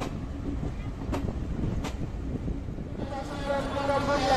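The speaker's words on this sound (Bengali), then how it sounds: "ব্যাকগ্রাউন্ড থেকে বোঝাই যাচ্ছে আমরা এনজেপি চলে এসেছি এবং লাকিলি ট্রেন অন টাইম।" A train arriving at New Jalpaiguri (NJP) railway station: a steady low rumble with wind noise, a few brief sharp clanks, and a rising metallic tonal squeal toward the end.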